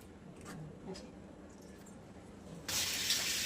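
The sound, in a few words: water poured into a pan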